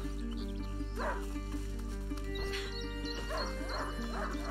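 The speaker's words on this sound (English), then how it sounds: "A hunting dog is not supposed to lose its hunter." Hunting dog barking and whimpering in the video game A Plague Tale: Innocence, a few short yips over a steady low game drone and music.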